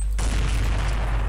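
A sudden bomb explosion erupts after a brief quiet moment: a loud, distorted booming blast that continues as a heavy, rumbling roar to the end.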